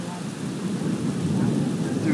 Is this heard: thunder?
yes